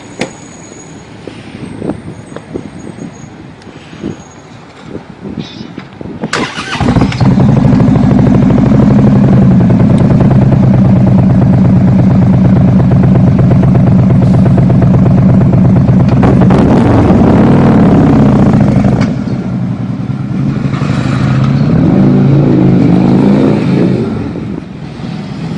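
A car engine revs hard through its exhaust pipes, a loud sustained roar that holds steady for several seconds, dips, then swells again.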